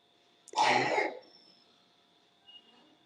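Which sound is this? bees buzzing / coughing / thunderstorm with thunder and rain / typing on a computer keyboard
coughing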